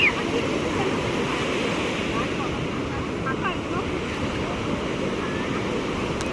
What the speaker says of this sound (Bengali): মা এখানে বলছে যে ঢেউয়ের জোর আজকে খুব বেশি, একদম ভাসিয়ে নিয়ে চলে যাচ্ছে